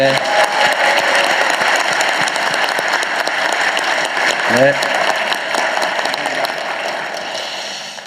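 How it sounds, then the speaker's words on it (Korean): Steady, dense audience applause at a political gathering in Cheongju, loud and even throughout and fading slightly at the end, with a brief spoken word cutting through partway. "박수 한번 보내주십시오."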